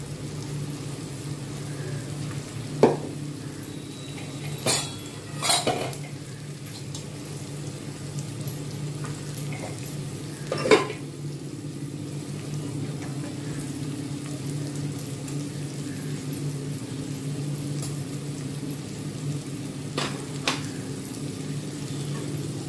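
A tempering of spices crackling in hot oil in a pan for buttermilk rasam, a soft steady sizzle with a few scattered pops and clinks of a utensil, fairly quiet and close with no talk.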